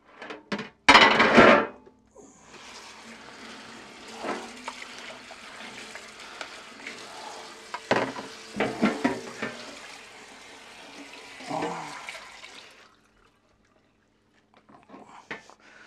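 Water runs steadily from a tap as a tray is rinsed, with a loud splash at the start and intermittent clatter and sloshing before the flow stops and the room falls quiet.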